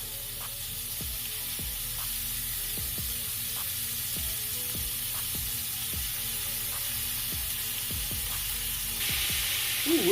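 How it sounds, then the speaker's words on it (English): Ground beef, about a pound, sizzles and fries steadily in a skillet for a taco beef stew, a continuous close crackling hiss with occasional stirring clicks and scrapes throughout. "Right here is the browning of the ground beef that we're talking about."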